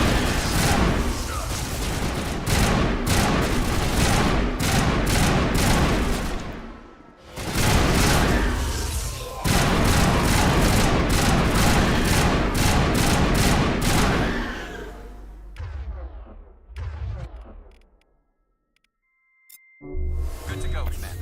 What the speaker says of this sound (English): I forgot it's a triple burst weapon